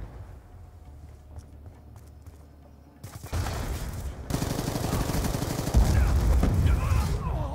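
A quiet stretch gives way to loud, sustained automatic gunfire in Black Ops 2, with dense rattling bursts filling the last few seconds.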